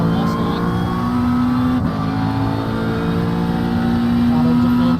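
Race car engines in the iRacing sim, a McLaren battling a Mustang at Sebring International Raceway, hum and drone steadily throughout under a commentator's voice, with a brief dip near the middle.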